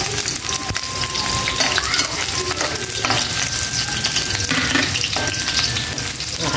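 Onions sautéing in a pan for ginataang monggo, a loud, dense, crackling sizzle close by, steady throughout with rain-like popping and faint scraping.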